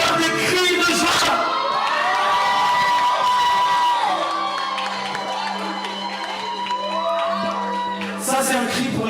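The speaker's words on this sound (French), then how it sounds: "Est-ce que je peux avoir des cris de joie?" A church congregation at a worship gathering in Toulouse erupts in sustained shouts, whoops and cheers of joy, a loud crowd roar lasting several seconds with music underneath.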